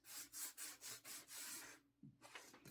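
A small handheld sander grinds against a basket in steady rhythmic strokes, loud and close, with a short pause before the rasping resumes.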